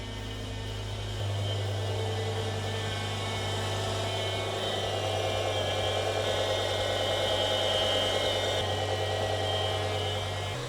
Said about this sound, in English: You can hear the engine burying the idle and doing the bleed procedure.